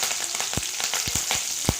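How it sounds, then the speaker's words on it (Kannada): Green chilies and curry leaves sizzle in a pan for brisk brinjal curry prep, a steady close hiss punctuated by several sharp popping crackles. "ಸ್ವಲ್ಪ ಫ್ರೈ ಆಗಲಿ."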